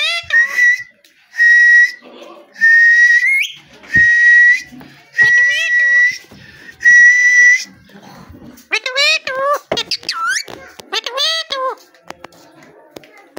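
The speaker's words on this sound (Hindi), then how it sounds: "सीटी बजाओ" Six sustained, high whistle notes repeat at an even pace on request, then give way to quicker chirping, warbling sounds mixed with a voice close by.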